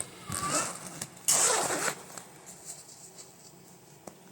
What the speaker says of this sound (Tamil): இந்த ஜிப் ஓப்பன் பண்ணிங்கன்னா உள்ளே வந்து 2 கம்பார்ட்மெண்ட் கொடுத்துருக்காங்க